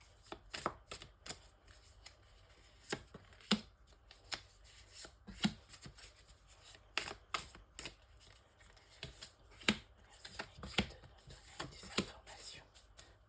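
Tarot cards being shuffled for a reading, a run of soft crisp riffling snaps and flicks at an irregular rhythm, close and quiet, with a voice talking lightly alongside.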